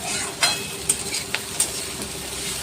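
Small potato pieces seasoned with a little salt and turmeric fry in a pan with a steady, soft sizzle, broken by a few sharp scraping clicks of stirring. No one speaks.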